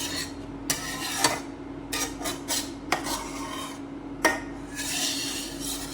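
Cardamom powder and coconut are mixed in a bowl, giving rhythmic scraping and rubbing strokes of a spoon against the bowl with a few sharper knocks, close and fairly quiet over a faint steady hum.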